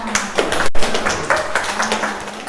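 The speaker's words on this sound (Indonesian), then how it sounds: "Oke, tepuk tangan." A classroom group applauds after finishing a presentation on compound polarity, a burst of quick, scattered hand claps lasting a couple of seconds, close and fairly loud.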